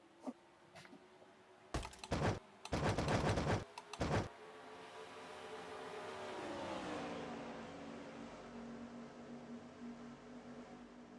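Stock cars in a racing video game accelerate at a race restart, engine drone rising and shifting in pitch as they come up through the gears, after a few sharp clicking bursts early on.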